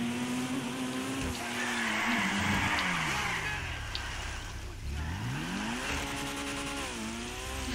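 Vapid Flash GT hatchback in GTA 5 driving hard, its engine note rising and falling through gear changes while tires skid and squeal continuously; a loud, steady game soundtrack with no talking.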